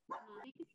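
A dog barks during an online school board meeting, one loud close bark-yelp followed by a shorter yip, sounding over a video call line.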